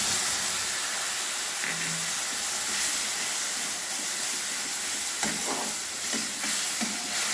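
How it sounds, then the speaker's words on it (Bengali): Ground spice paste sizzles steadily in a hot pan while being stirred for a Bengali rohu fish curry, a continuous hiss with a few louder scraping strokes near the end, no talking. "এবার আমি মশলাটা 2 মিনিট ধরে আমি ভালোভাবে কষে নেব"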